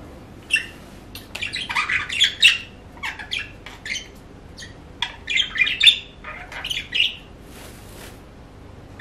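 Parrots squawk and chirp near the nest box where a male goes in to feed his chicks, with bursts of shrill calls coming in clusters over steady low background noise.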